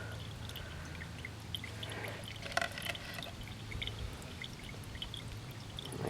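Fuel from an old 1990s Craftsman 2400-watt generator pours out in a steady trickling stream, with faint drips and brief clinks on top, lasting throughout at a quiet, close level.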